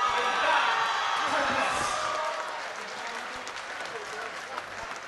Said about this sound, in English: And ladies and gentlemen, please, a huge, huge round of applause for an outstanding opponent, Dan